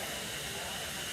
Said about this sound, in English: the spectacle of the two engines steaming together